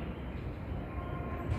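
A Sobu Rapid Line train rumbles steadily into Inage Station, a continuous low mechanical roar of wheels and motors on rails, loud and close on the platform with no voices.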